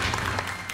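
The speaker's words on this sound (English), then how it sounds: "We'll give a big round of applause as you go back to your team." A studio audience on a quiz show breaks into sustained applause, a dense wash of clapping that stays steady and moderately loud for the whole short moment, with no voices on top.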